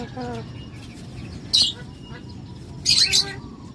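Two umbrella cockatoos give short, loud, harsh squawks, one burst early and a doubled burst near the end, with a person talking quietly between them.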